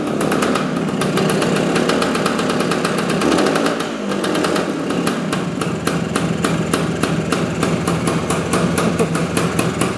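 A 1974 Honda Elsinore MT 250 two-stroke dirt bike engine runs loud and close in a steady, rapid crackling idle, with a brief throttle dip around the middle before settling back into its even rhythm.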